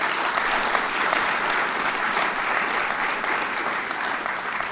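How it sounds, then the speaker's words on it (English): Steady audience applause fills a high school sports awards event after a state playoff team advancing in Class 2 is announced, with dense, even clapping throughout and no speech over it. "a round of applause for them?"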